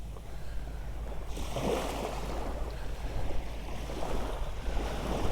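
Steady wash of surf rolling onto a shore by a jetty in Magaluf, Mallorca, with a broad swell of water noise midway and light wind rumble throughout.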